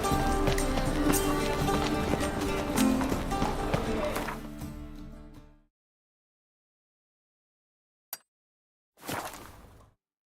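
Hooves of the horse Roach gallop in a rapid rhythmic clatter in the Witcher 3 video game, loud and mixed with music for several seconds before cutting to silence, followed by a couple of brief sounds.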